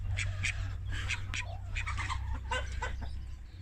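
A young rooster outdoors near a henhouse clucks in short repeated calls over a steady low hum, moderately close with no clear speech.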